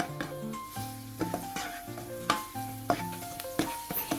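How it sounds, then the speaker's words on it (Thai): Minced garlic sizzles steadily in a little oil as it is stirred in a pan, with a faint musical tone running underneath. "ใส่น้ำมันเล็กน้อยแล้วก็ตามด้วยกระเทียมสับลงไปผัดให้หอมก่อนครับ"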